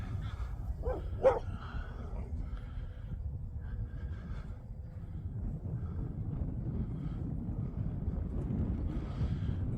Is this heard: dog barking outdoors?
yes